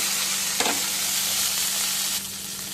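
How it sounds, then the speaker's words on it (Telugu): Loud, close sizzle of coriander seeds tempering in hot oil, crackling steadily with a brief clatter near the start, no voices. "ధనియాలండి తాలింపు చేస్తున్నానండి"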